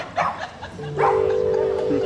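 A small dog barks a few times at an outdoor evening concert in a town square, sharp yips mixed with crowd noise and a sustained tone from the stage sound system.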